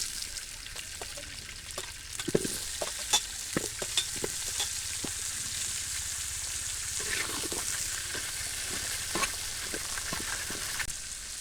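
Steady sizzling of potatoes frying in hot oil in a wok, broken by irregular scraping and clinking as a utensil stirs them.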